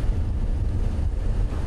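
Strong wind howling across a microphone at sunrise in the Sabi Sand safari bush, a loud continuous buffeting roar with gusty low rumble and no voices.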